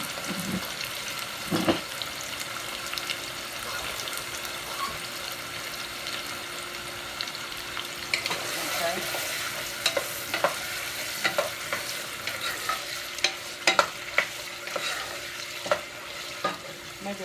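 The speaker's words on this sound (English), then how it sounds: "I'm going to go ahead and drop my ham pieces in here." Chunks of ham tossed into a hot pan to draw out salty flavor while cooking green beans, giving a steady soft sizzle with scattered stirring clatters and scrapes, growing busier in the second half.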